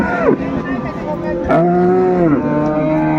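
Cows and calves of improved dairy breeds at Ambari cattle market in Dinajpur give several loud, drawn-out moos close by, one after another, over a busy market background.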